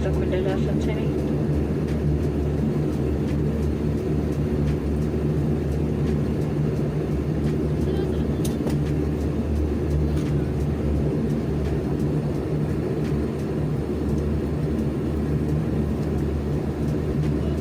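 Jet Airlines airplane at Wajir just after landing, a steady loud engine whir and cabin rumble filling the whole stretch, with people talking faintly underneath.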